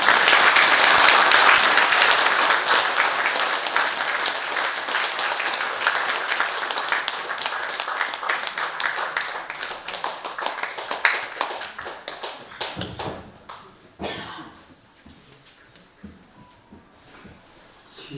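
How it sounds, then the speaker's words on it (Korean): Church congregation at a Korean worship service applauding to welcome a pastor, dense loud clapping that gradually thins and fades over about thirteen seconds into quieter scattered sounds. "나오실 때 박수로 환영해 주시기"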